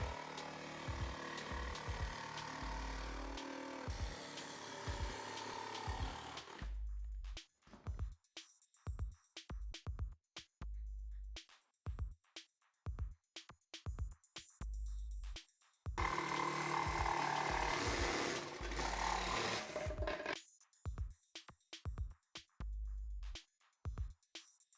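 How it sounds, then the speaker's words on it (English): Jigsaw cutting a laminate floor board to fit around a corner, loud rasping bursts of a few seconds each, with a longer burst later on and short gaps and clicks between them. "mark the depth and the width of the corner on the board and trim off with a jigsaw"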